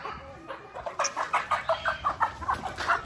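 A chicken clucks in a quick, regular series of short calls, close by and fairly loud over faint background noise.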